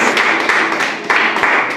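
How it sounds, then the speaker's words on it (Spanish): A church congregation claps for God at the close of a prayer service, a steady dense patter of many hands, loud and close with sharp individual slaps poking through. "Vamos a dar un aplauso a Dios"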